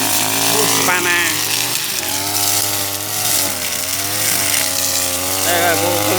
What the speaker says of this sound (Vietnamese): Nay test thử máy cắt cỏ, máy Thụy Điển Husqvarna.